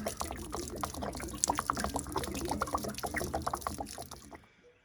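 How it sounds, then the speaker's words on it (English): Water drains and splashes out of a Dometic 6-gallon RV water heater tank in a Jayco travel trailer, a steady close pouring patter that fades out at the end. "Oh yeah, there's some water in there. All right, we'll let that drain."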